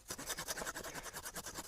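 A hand saw cuts through wood for log cabin building, a fast, even rasping stroke repeated about a dozen times in under two seconds, faint and somewhat distant with no talking.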